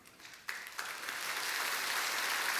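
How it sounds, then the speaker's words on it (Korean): A church congregation at a Sunday service breaks into encouraging applause, starting with a couple of sharp claps and then building into a full, sustained wash of many hands. "여러분들 격려의 박수를 해주시기 바랍니다"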